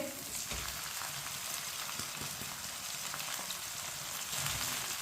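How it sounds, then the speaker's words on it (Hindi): Finely chopped tomatoes sizzle and spit in a pan with ginger, giving a soft, steady crackle and patter that runs the whole time, fairly quiet, with no voices. "दो टमाटर डालेंगे बारीक कटे हुए"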